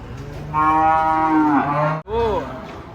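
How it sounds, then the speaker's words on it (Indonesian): A humped cow moos loudly and at length, a long harmonic bellow followed after a brief pause by a second, shorter moo, close by. "Ada sapi unik."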